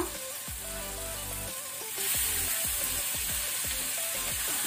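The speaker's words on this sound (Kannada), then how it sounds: "ಇದನ್ನೀಗ ನಾವು ಹೈ ಫ್ಲೇಮ್ ಅಲ್ಲಿ ಕುಕ್ ಮಾಡಬೇಕು. ಈ ರೀತಿ ಓಪನ್ ಅಲ್ಲಿ ಫ್ರೈ ಮಾಡಬೇಕು." Cleaned squid hisses and sizzles in an open pan over high flame after mashed tomato, with steady frying noise and repeated scraping strokes of a spatula stirring, close and continuous.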